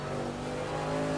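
A race car engine in the Project Cars racing game, downshifted and bouncing off the rev limiter, gives a steady, loud, high-pitched buzzing drone that holds through the whole moment without a break.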